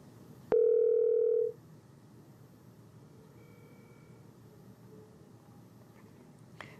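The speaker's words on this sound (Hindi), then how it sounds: "फोन लाइन डिस्कनेक्ट हो गई है" A phone line drops during a live call-in show, leaving a single loud, steady telephone tone lasting about a second, followed by quiet line hiss.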